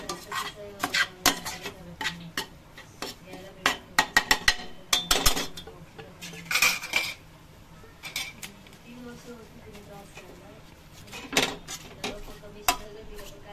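Biryani masala with chilli powder, turmeric and ground coriander being stirred in a pan, a spoon scraping and clinking against the metal in repeated strokes, close and fairly loud, with a brief sizzle beneath.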